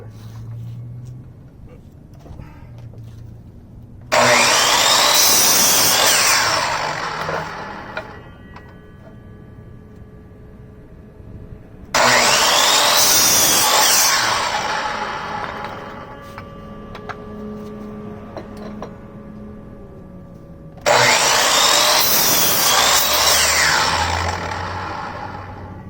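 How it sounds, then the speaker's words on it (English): Porter-Cable folding miter saw cutting short wood pieces: three separate loud whining cuts of a few seconds each, separated by quieter pauses of motor spin-down and workshop handling. "it is a folding miter saw"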